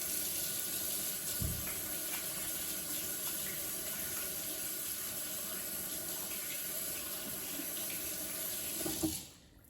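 Tap water runs steadily into a kitchen sink as hands are washed while pizza dough is being made, a constant close splashing hiss with small knocks, fading out at the end.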